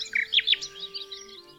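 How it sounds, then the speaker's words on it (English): A little bird in a garden chirps in a quick burst of high, bright tweets, then thinner trailing chirps, close and clear over a quiet background. "Oh, Biscuit, you found a little bird."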